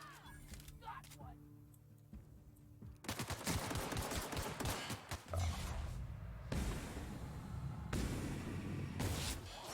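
Rapid bursts of gunfire in The Outer Worlds, loud and dense from about three seconds onward, with a player talking over the shooting.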